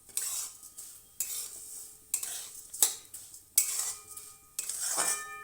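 Vermicelli roasting in a pan, stirred with a utensil in about six distinct scraping sweeps, each a sharp metallic scrape trailing off into quiet, close and fairly faint, no voices.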